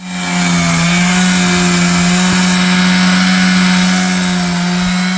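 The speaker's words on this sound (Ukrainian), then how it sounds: "бензопила по бетону" A petrol saw roars steadily at high revs, grinding continuously through concrete, loud and close for the whole stretch.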